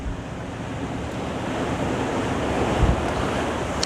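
Ocean surf at Pacifica on the San Francisco coast, a steady, full roar of breaking waves with wind noise over the microphone and a slightly louder surge near the end.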